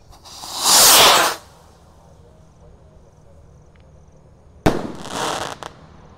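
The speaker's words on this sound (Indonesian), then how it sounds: "Sudah menyala Rocket Pluto, siap meluncur." A Rocket Pluto firework launching on a Ramadan night: two loud, hissing whooshes, the first rising and fading over about a second, the second starting with a sharp crack before its hiss trails off.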